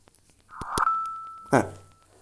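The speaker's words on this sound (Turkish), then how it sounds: "Böyle bir ses çıkıyor bağlandığında." A WeWalk smart cane gives its connection sound: a pair of clicks with a steady electronic tone, then a short rising chime, clean and close with nothing else around.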